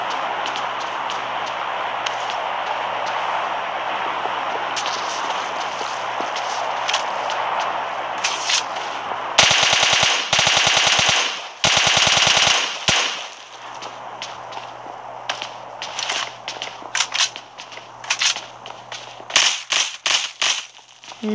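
Rapid bursts of gunfire in the mobile battle royale game PUBG Mobile, loud and close, in dense clusters of shots with short gaps between volleys and a steady game-audio bed underneath.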